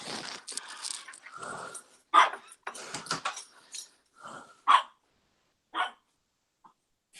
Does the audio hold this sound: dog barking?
yes